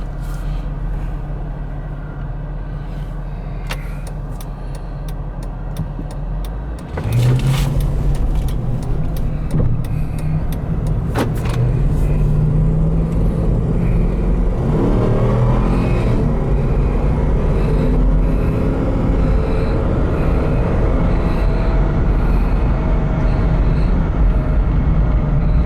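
A 2005 Jeep Grand Cherokee Limited 4x4 with the Hemi V8 drives along, with a steady low engine drone that swells as it accelerates after a few seconds, and road and wind noise fills the cabin throughout.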